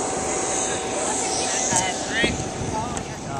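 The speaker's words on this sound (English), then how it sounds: "That's our plane right here." At an airport, an airplane engine roars in a continuous loud rumble and whine close by, with faint voices underneath.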